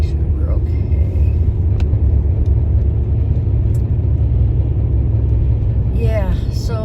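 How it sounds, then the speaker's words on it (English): Car tires make a loud, steady broadband roar of road noise from inside a moving car, continuous throughout, with a voice speaking briefly near the end. "I'm getting a lot of noise. I don't know if you can hear it in my car. It's my tires."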